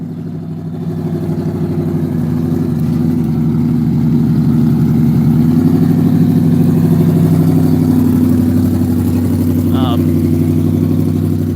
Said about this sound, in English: this GT500 is coming back around for another pass